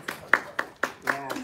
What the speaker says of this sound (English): Can we clap? You can clap.